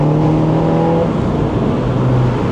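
A Mini Roadster John Cooper Works with a stock exhaust and an Akrapovic 100-cell sport cat, around 80,000 miles, revs up close by in a loud, gruff, continuous pull, the engine note rising and falling slightly with no speech.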